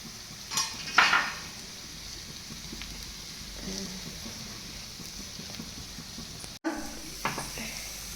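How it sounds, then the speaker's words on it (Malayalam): Coriander powder stir-fried in a pan for a rajma bean curry makes soft sizzling with scraping spoon strokes and a few clinks against the pan, moderately close and fairly quiet. "ഇനി നമുക്ക് ഇതിലേക്ക് മല്ലിപ്പൊടി ഇടാം. മല്ലിപ്പൊടീൻ്റെ പച്ചവാസന പോകുന്നവരെ ഒന്ന് അത് വരട്ടിയെടുക്കാം."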